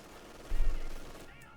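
MG42 machine gun fire in Company of Heroes 2, a short rumbling burst of shots at moderate distance.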